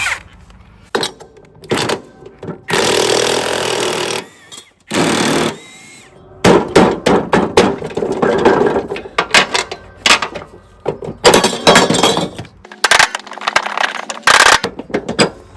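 Spindles from a John Deere D170 lawn tractor, one broken and one with a bad bearing, are taken apart with power tools, loud close bursts of rattling impact-driver hammering separated by short pauses and clanks.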